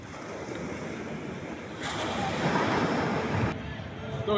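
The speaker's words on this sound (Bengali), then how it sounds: "আপনারা তো দেখলেন এই সমুদ্রের ঢেউ কেমন কেমন গর্জন কেমন আওয়াজ" Sea waves surge onto the beach at Cox's Bazar with a broad, roaring wash and gusts of wind noise, growing louder midway before dropping back.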